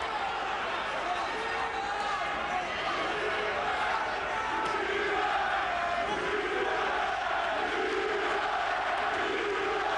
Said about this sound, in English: Chant of Eubank right now with this crowd here in Sheffield